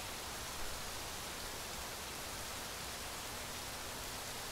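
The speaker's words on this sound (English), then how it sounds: "It is rain, that's for sure. It definitely sounds like rain." Steady hiss of rain in the video game Rising World, a dense, even wash of falling drops with no talk, faint and unchanging throughout.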